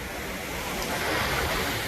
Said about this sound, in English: Well, we're out here taking a swim in the ocean.